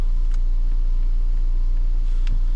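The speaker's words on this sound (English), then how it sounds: "it starts with no warning lights and idles as it should" A Mercedes C180 Coupe AMG Sport Edition engine idles steadily as a loud, constant low rumble, with a couple of faint clicks on top and no talking.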